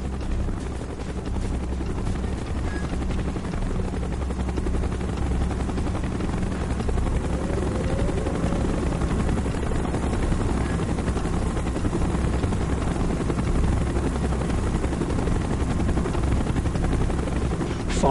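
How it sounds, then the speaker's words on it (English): Helicopter rotor and engine roar steadily and loudly throughout a Call of Duty: Black Ops mission, a dense continuous chopping drone with faint battle noise beneath. "Chopper's inbound."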